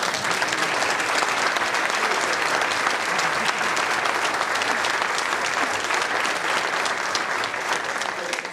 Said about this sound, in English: a nice round of applause for that